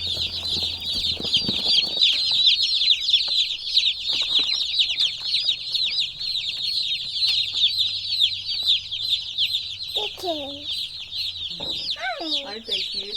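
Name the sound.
meat chickens clucking on a farm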